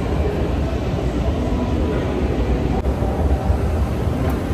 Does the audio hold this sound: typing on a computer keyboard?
no